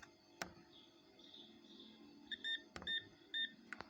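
Scanning at a supermarket checkout in the game Supermarket Simulator: a few sharp clicks over a faint low hum, then a run of short, bright electronic beeps in quick pairs as items ring through the register.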